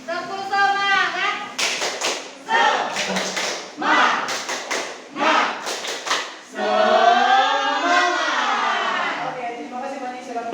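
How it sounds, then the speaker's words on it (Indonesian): An Indonesian fifth-grade class stands and performs a rhythmic spirit clap, with loud bursts of group clapping in quick patterns alternating with children chanting together. "Tepuk semangat."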